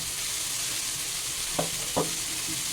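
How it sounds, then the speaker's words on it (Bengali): Kachki fish chorchori sizzles steadily in a pan while a spoon makes two quick stirring strokes near the end, with no talking. "এখন আমি এটাকে একটু নেড়ে চেড়ে দিচ্ছি"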